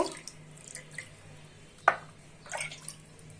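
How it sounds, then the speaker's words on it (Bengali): Water goes into a pot of lentils (fried mung dal), heard as faint, sparse drips and two short splashes near the middle and end over a quiet background. "এখন আমি ডালে পানি দিয়ে দিব।"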